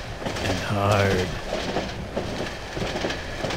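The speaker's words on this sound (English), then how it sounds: "This is a very long train." A long train in the horror video game Cry of Fear rumbles past with rhythmic clickety-clack and a brief screeching whine, heard under someone talking.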